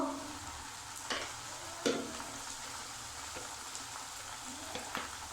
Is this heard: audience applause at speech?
no